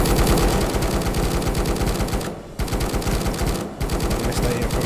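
Continuous rapid gunfire in the VR zombie shooter Death Harvest VR, dense automatic shots that pause twice briefly before resuming, loud and close throughout.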